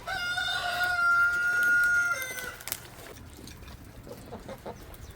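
A rooster crows loudly and long up close, followed by softer scattered clucking from chickens in a backyard.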